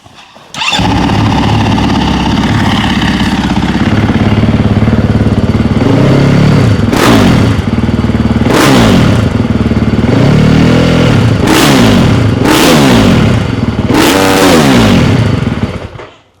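A GasGas 450 Factory Edition dirt bike with a full titanium Akrapovic exhaust starts up, idles loudly and close, then gets several sharp throttle blips that rev up and fall back before cutting off.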